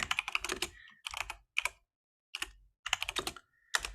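Quick bursts of close keystrokes clatter on a computer keyboard, with short pauses between the runs of typing and no voices.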